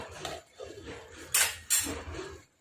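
Spoon stirring potato and tomato curry in a cooking pot, soft scraping with two sharp metallic clinks against the pot, close and quiet with no talk.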